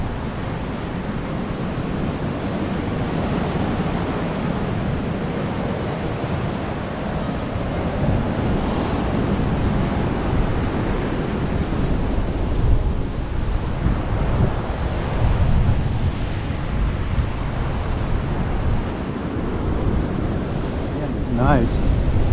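Ocean surf rolls onto the rocky coast at Nawiliwili, Kauai, a loud, continuous roar of breaking waves mixed with wind buffeting the microphone.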